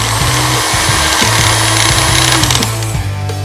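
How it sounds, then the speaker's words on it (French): A power drill bores a window hole through a dollhouse wall, its motor whining loud and close in a steady drone with rhythmic dips as the bit bites and releases. "Je vais utiliser la perceuse pour faire une fenêtre."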